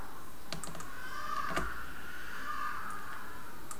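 A few keyboard and mouse clicks during photo-editing work, with sharp isolated taps close by over a steady background hum, and no voices.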